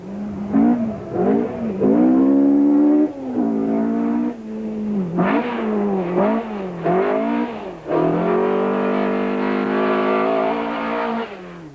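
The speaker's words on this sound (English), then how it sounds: "Each competitor must complete 2 laps of this laid-out autocross circuit, and Serge must contend with Sarel's dust" Ford rally cars race around a sandy autocross circuit, engines revving hard and rising and falling through repeated gear changes, with tyres scrabbling as the cars pass close by, loud throughout.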